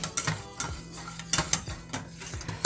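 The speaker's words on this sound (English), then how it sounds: "And then whisk it all together." A whisk scrapes and clinks against a bowl while mixing a vegan banana pudding mixture, a rhythmic series of sharp metallic taps and strokes, close and fairly loud.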